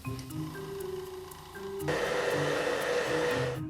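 An airbrush hisses steadily while spraying black paint onto a knife handle, the airflow growing louder and broader partway through as the spray opens up, with a continuous compressor-like hum beneath.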